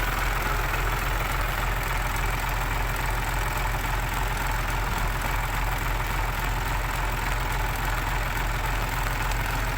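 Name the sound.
modified car engine revving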